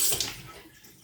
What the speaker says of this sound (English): So I'm gonna rinse this though